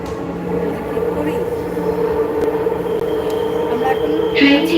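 A Dhaka metro train rumbles steadily while running, with a recorded onboard announcement naming the destination and next station in Bengali and English over the continuous rail noise.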